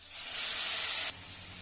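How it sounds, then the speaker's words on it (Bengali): Papaya pieces frying in a pan give a loud, steady hiss of sizzling oil that cuts down abruptly partway through and continues more softly, with no voices. "পেঁপেগুলো ভেজে নিচ্ছি"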